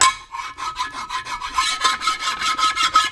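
A hand file rasps across the surfaces of a Muncie 4-speed transmission case to flatten them. The close, scratchy strokes come in a quick, even rhythm with no voices.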